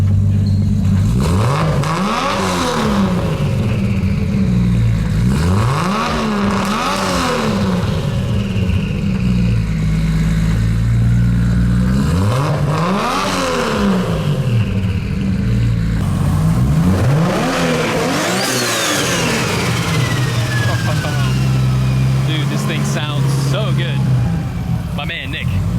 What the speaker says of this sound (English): Can you go ahead and rev it up for us?